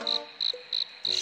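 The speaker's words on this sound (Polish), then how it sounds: "Świerszcze?" Crickets chirp in a Scooby-Doo video game set in an Egyptian pyramid, four evenly spaced bright bursts of high trilling over a quiet background with no talk.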